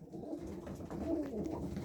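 A breeding pigeon, once a flying and tumbling bird, gives one soft, throaty coo close by, low and rolling, against a quiet background with no talking.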